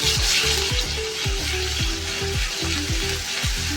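Green garlic paste sizzling in a frying pan for a bitter gourd dish: a loud, steady sizzle with repeated scraping stirs of a spoon against the pan, close up and without voices.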